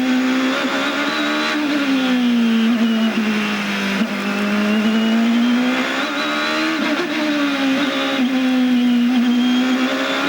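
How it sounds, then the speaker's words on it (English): A Champ Car engine drones at high revs at Mid-Ohio in 2003, its pitch rising and dipping as it lifts and accelerates around the track, loud and continuous with no talking. "hear how little throttle they're running compared to when the tires are hot"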